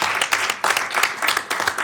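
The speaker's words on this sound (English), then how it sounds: "give her a round of applause" Applause breaks out in a Sacramento city council chamber, a short stretch of steady, dense clapping from the room with no talking over it.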